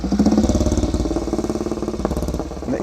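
Old racing motorcycle running at a Ride an Old Bike Experience gathering in Ulster: a loud, close engine with a fast, throbbing, uneven beat and mechanical clatter.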